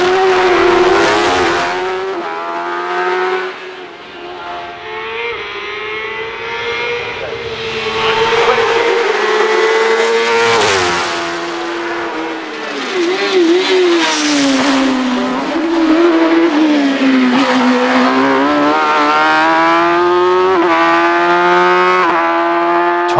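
A Force Suzuki race car on a hillclimb run, the engine loud and close, revving and shifting repeatedly, pitch climbing and dropping between gear changes as it accelerates up the course.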